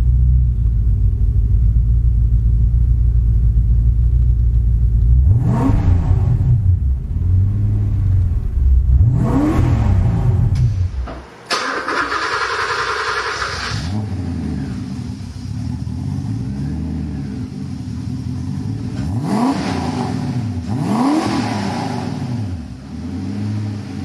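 A Porsche 928 Turbo's engine rumbles at a loud, close idle and is blipped in a series of sharp revs that rise and fall, with one brief dip before the revving resumes.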